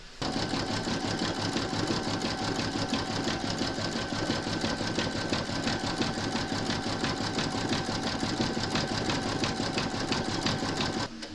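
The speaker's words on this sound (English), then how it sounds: "Load your thread colour for the decorative stitching over the top join into your machine, and then stitch round number 10." Domestic sewing machine running steadily, stitching decorative thread over a join on a crazy patch notebook cover; a continuous close, even motor whir with a fast needle rhythm throughout.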